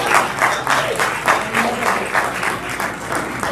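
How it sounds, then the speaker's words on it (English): An audience claps steadily in sustained applause at a meet-and-greet event, a dense patter of many hands filling the room with no talk over it. "Clap for him."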